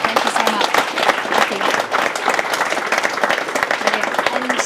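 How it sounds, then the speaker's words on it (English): An audience at a leadership livestream event bursts into loud, close applause with sharp individual claps, while a few voices speak over the clapping. "A round of applause."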